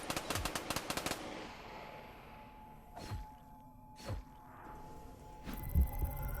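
Rapid gunfire in Call of Duty Zombies, a quick burst of shots followed by a few single booming blasts spaced about a second apart, with a steady hum in the background.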